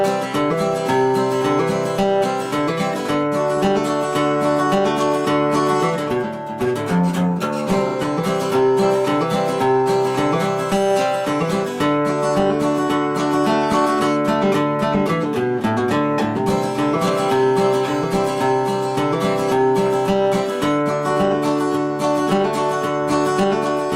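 An acoustic guitar plays the bridge of a song, with continuous strummed chords and short picked fills, loud and close, with no voice over it.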